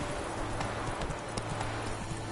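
Hooves of Roach, Geralt's horse in The Witcher 3, clip-clopping in a steady trotting rhythm over a dense, loud game soundscape with constant background ambience.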